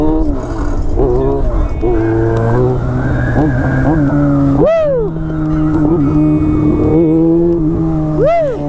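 A Yamaha XJ6 motorcycle engine revs loud, up and down repeatedly with rising and falling pitch sweeps, close by and continuous, with talk mixed in.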